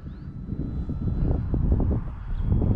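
An E-Flite T-28 Trojan electric RC plane flies on a windy day, its motor a faint whine under heavy buffeting wind rumble against the microphone, fluctuating and continuous throughout.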